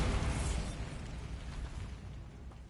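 The Bombarda blasting spell goes off in a Harry Potter video game: one broad, rumbling burst that fades over a couple of seconds, fairly quiet overall with no talking.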